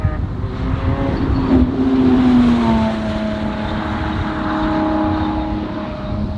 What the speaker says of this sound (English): The Ferrari that we're seeing is the SF90, and there is the SVJ.